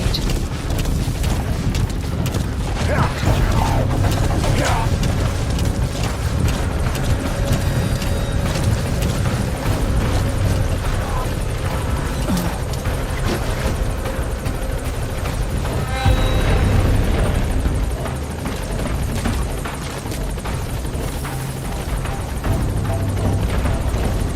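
A support helicopter in the Metal Gear video game arrives with a continuous loud rotor and engine roar that holds steady throughout, with faint mechanical clatter layered over it.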